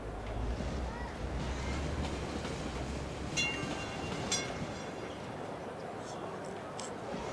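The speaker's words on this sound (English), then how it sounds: "This is quite a big train for this area." A train rolls along a rail line in the city-building game Cities: Skylines, giving a steady, continuous rumble with faint clattering detail and a couple of brief higher squeal-like accents midway.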